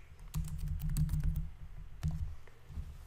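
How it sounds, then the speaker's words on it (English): Keys tapped on a computer keyboard while typing a button title, a close, quiet patter of quick strokes in two short bursts, with a low hum underneath and no speech. "So let's just type 30 days average."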